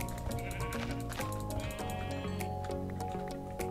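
Sheep bleating in Minecraft, a few short bleats standing out against steady game music and clicking, fairly close and moderately loud.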